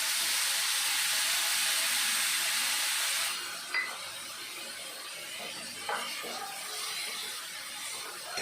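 Tamarind water hits a hot pan for a Tamil pagarkaai pachadi, a loud bright sizzle that holds for about three seconds then drops to a softer bubbling hiss with a couple of small spatters, no voices.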